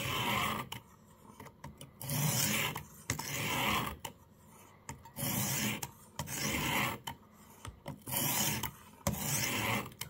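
A blade being sharpened on a Xarilk portable sharpener, a series of close, rasping strokes in short bursts of about a second with brief pauses between them and no talk.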